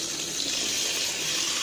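Water gushes steadily into a bucket being filled, a loud, continuous rushing pour with no break and no voices.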